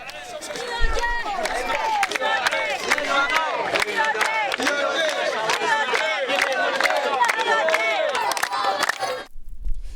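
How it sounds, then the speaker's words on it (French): A crowd cheers and shouts in welcome as the president arrives at a regional celebration, with singing and dancing; a dense, continuous mass of voices and calls goes on steadily throughout, near and loud. "Des chants, des danses et des acclamations nourries d'une population en liesse"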